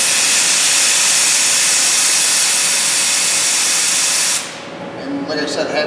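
Compressed air blasts through a MIG welder liner as a loud, steady hiss lasting about four seconds, then cuts off abruptly, leaving quieter faint noises.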